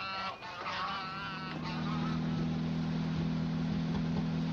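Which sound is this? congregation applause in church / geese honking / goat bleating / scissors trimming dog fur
geese honking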